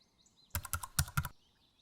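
A short burst of about five quick typewriter-style key clacks, crisp and close, in an otherwise quiet moment.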